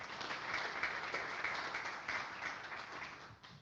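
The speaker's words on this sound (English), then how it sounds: "Let's give him one more round of applause." An audience at a community event for a Dearborn Board of Education candidate claps in steady, moderately loud applause that holds throughout and tapers slightly at the end.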